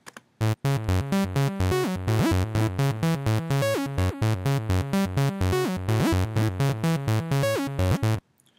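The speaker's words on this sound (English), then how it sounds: "I started off with this lead ARP" A synth lead arpeggio plays fast, evenly pulsed notes in a steady rhythm, loud and alone, stopping abruptly at the end.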